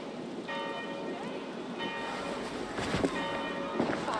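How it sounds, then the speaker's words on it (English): Church bells ring in the Assassin's Creed Valhalla video game, tolling in three separate strokes with long ringing overtones over a steady, rain-like background wash. "Do you not hear the bells?"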